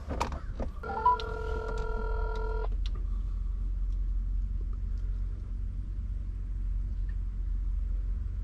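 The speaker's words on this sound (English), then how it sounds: "let's go ahead and get Matt on the phone now" A telephone is dialed on speakerphone during a remote dyno tuning session: a quick run of DTMF keypad tones sounds clearly over a steady low rumble and hum, then the tones stop and the background drone carries on alone.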